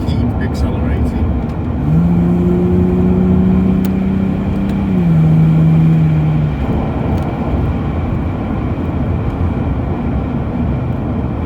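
A 1994 Jaguar XJS with a 6.0 V12 accelerates on a drive around Cheshire, heard from inside as a steady, loud engine drone whose tone climbs smoothly and then settles.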